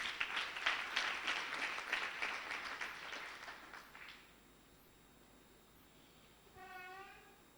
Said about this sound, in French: Je voudrais que vous vous acclamez vous-même.